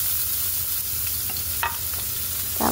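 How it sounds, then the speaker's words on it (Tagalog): Onion frying in a pan for Saudi-style chicken lumpia, a steady broadband sizzle running throughout with a couple of brief scraping stirs near the end, no talk. "maglalagay na tayo ng sibuyas."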